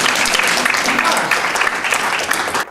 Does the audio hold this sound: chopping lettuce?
no